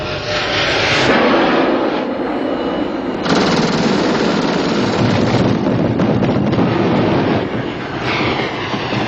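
Jet aircraft noise from Mirage III fighters being readied for strikes in the 1967 war: a loud, continuous broadband roar of engines that swells and holds steady throughout, with no talking.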